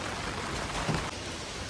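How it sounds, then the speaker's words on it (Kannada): Heavy rain pours in a steady, dense hiss, loud and unbroken, with no voices over it. "ಹೋಗುವಾಗ ಸಹ ಮಳೆ, ಬರುವಾಗ ಸಹ ಮಳೆ."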